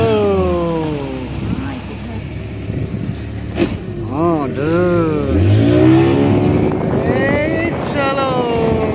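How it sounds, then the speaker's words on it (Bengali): Motorboat departing on Chandil Dam, its engine droning steadily and swelling as it pulls away, nearby under people talking and music playing. "চলো আমাদের বোট ছাড়ছে।"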